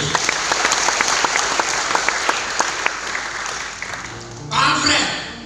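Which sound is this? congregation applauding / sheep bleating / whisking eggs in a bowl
congregation applauding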